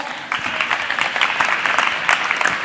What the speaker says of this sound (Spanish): Y también tenemos a Borja Ventura, un aplauso para él.